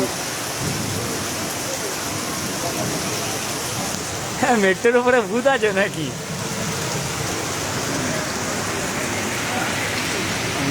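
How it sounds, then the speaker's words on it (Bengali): Heavy rain drenches an empty road with parked cars, a steady loud wash of falling water; a person speaks briefly in the middle over the downpour. "বিশাল জোরে বৃষ্টি হচ্ছে কিন্তু"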